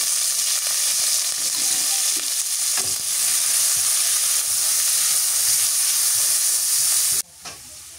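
Chopped onion and green chillies sizzle loudly and steadily in hot oil in an indoor kitchen, close and continuous, until the sound cuts off abruptly near the end.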